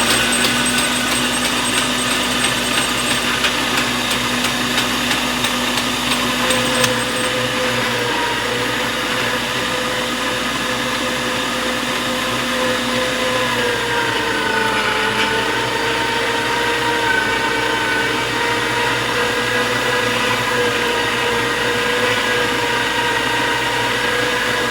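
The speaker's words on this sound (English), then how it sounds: "Noise alert, grinder's going to kick on in just a second." An electric meat grinder grinds Cajun-style sausage meat with a loud, steady motor whine and hum that runs unbroken for about 25 seconds, its pitch wavering slightly partway through, with no talking.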